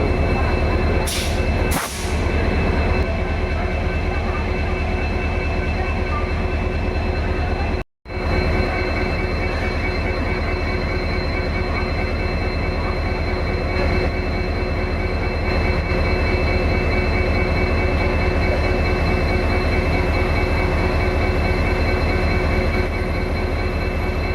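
Indian Railways train arriving late at a station, a loud, steady, close rumble of rolling wagons with wheel squeal, continuing without a break.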